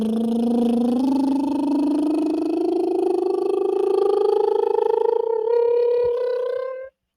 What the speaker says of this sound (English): I'm going to demonstrate the first one on a lip trill. So remember, this is low to high.